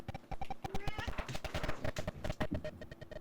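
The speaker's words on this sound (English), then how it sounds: "that was my cat being a lunatic" A cat meowing wildly in rapid, repeated yowls over a few seconds, close and fairly loud, mixed with clattering knocks.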